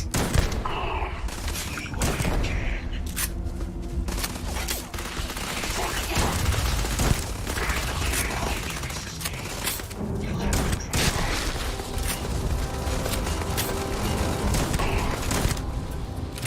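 Continuous machine gun fire in the Starfield video game, a dense and loud stream of rapid shots with clanking mechanical noises and booms, sustained for the whole stretch with game sounds layered underneath.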